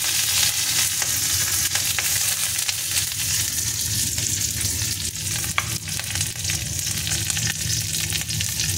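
Chillies fry in ghee in a wok while making chicken badam bahar, a loud continuous sizzle and crackle with faint stirring scrapes, close up and without talk.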